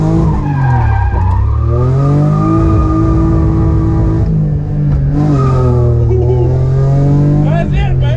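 BMW E46 fitted with an EFactory angle kit driving and cornering, its engine droning loud and close with shifting pitch as it revs, tires squealing through the turns, and a voice speaking over the noise.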